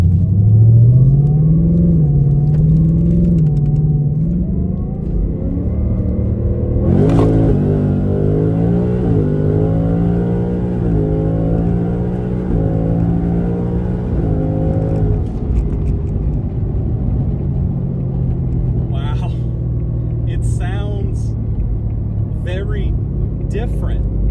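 A Whipple-supercharged S650 engine with competition intakes drones with a deep induction growl while driving, pitch climbing and settling through steady acceleration, with faint clicks near the end.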